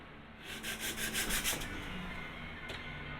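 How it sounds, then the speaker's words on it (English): Rhythmic hand sanding on a wooden knife blade, about six quick back-and-forth rubbing strokes up close, then a brief pause and one more scrape. "You gotta keep sanding through."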